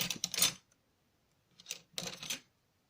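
A craft knife slices two notches into card for a sliding card, heard as close, scratchy strokes in two short bursts separated by a pause, with no talking.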